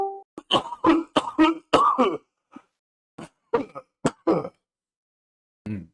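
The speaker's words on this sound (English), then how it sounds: "I apologize for coughing into the mic profusely" Repeated coughing and throat clearing close into a microphone, in short bursts over the first two seconds and then scattered coughs with pauses of silence between them.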